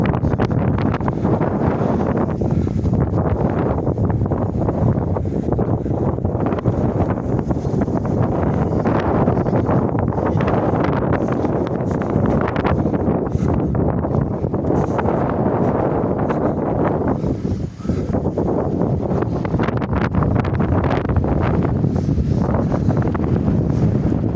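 Strong, cold wind roars steadily across the microphone in a village, a loud continuous buffeting rumble with no pauses.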